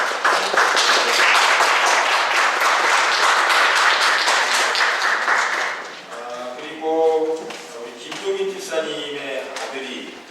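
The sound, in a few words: church congregation applauding a welcomed guest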